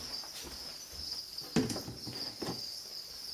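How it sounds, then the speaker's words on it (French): Crickets in a breeding box chirp in a steady high continuous trill, faint and close, with a few soft rustles and taps underneath. "c'est 200 grillons. Et les boîtes de ponte, là, les deux, c'est plus de 3000 grillons."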